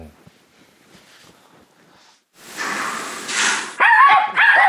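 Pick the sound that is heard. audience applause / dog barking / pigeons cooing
dog barking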